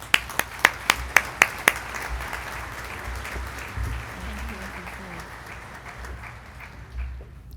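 An audience at a spring commencement ceremony claps in welcome, opening with a few sharp, distinct claps and then swelling into steady, dense applause from many people.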